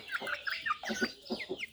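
Rapid high-pitched peeping from several chicks, a busy overlapping chirping close by with short repeated calls.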